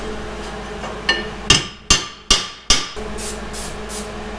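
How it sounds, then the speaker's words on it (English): Sharp hammer taps on a steel Dana 60 high steer arm being seated against the edge of a cast iron Super Duty knuckle, about five distinct close metallic strikes spaced roughly half a second apart, each ringing briefly. "I'm going to tap this down against this edge just to make sure it's perfectly in there."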